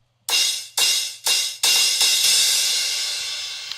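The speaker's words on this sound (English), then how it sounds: "I automated the volume. That is why it sounds like this." Crash cymbal hit repeatedly with volume automation chopping it, three short swelling bursts cut off abruptly, then a final full crash left to ring and slowly fade, clear and alone.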